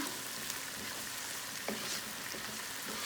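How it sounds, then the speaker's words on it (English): Chicken tikka masala fries in a pan with a steady, even sizzle and a soft bubbling hiss that holds at moderate volume throughout, with one faint clink partway through. "You can see that water is going evaporate and also is frying very well."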